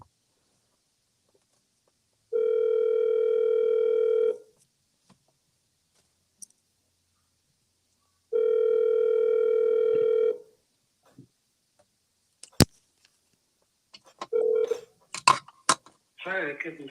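Two long, steady telephone ring tones sound on an outgoing call to a seller, a few seconds apart, followed by clicks and a brief burst of talk.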